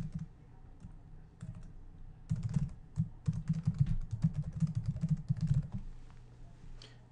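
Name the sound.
typing a checkout name and email address on a keyboard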